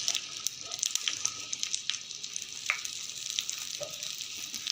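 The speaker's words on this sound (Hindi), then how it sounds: "अब हम इसमें भिंडी ऐड करेंगे।" Okra dropped into hot ghee gives a bright, steady crackling sizzle with scattered pops throughout, close and moderately loud, with no voices.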